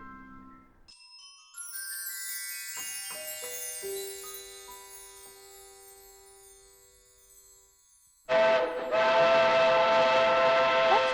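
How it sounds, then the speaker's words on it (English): A train sound effect with a long, tonal steam-style whistle that sounds clean and loud for several seconds, then gives way to a rumbling train running with chugging noise and another sustained whistle tone. "That sounds like the ballet train."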